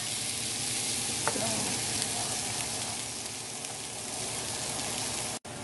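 Onions frying in a pan for pork chop gravy, a dense, even sizzle running continuously up close with a faint stir or two, and no speech over it.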